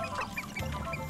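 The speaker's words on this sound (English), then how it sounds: "Chickens!" Chickens clucking in the video game Hogwarts Legacy, a quick burst of short nasal squawks and clucks lasting about a second, close and fairly clear with no talk over it.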